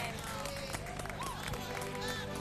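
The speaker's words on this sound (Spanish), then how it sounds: "Fuerte el aplauso, mirá, una vueltita." An audience applauds and cheers at a televised event, steady clapping filling the short stretch with a crowd murmur underneath.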